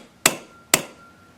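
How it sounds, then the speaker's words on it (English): Two sharp metallic strikes of a chasing hammer on a steel screwdriver, about half a second apart, each ringing briefly before fading in an otherwise quiet space. "This is my chasing hammer, and I hit steel tools with it."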